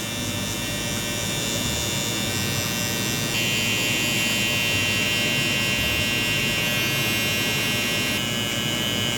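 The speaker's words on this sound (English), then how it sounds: "We're gonna take a little, my soft trimmer, which is a trimmer that's not gap, and I'm just gonna baby tap this line right here." A soft hair trimmer cutting a fade line hums in a constant close electric buzz that runs unbroken, with a slight shift in tone partway through.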